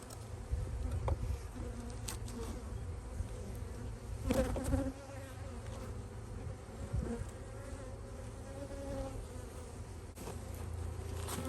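Honeybees buzzing at a weak beehive, a dense continuous drone of many insects close by, steady and fairly loud with a few brief knocks and no speech.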